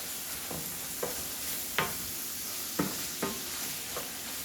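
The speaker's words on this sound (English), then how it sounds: "you're going to drop your onions in. And you're going to let that cook." Onions cooking in a pan for a chopped cheese, a faint steady sizzle broken by a handful of sharp spatula scrapes spaced about a second apart, close and quiet, no voices.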